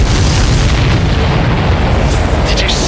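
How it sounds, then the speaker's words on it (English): Explosion in the Ace Combat 7 video game: a loud, heavy boom that rolls into a sustained low rumble filling the whole stretch, with airy roar on top. "Did you see that explosion?"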